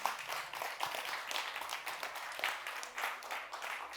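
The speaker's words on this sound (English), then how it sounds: "Chris Cook, please welcome him with a warm hand of applause." Applause at a music convention welcoming a panel host, moderately faint, steady clapping from an audience throughout.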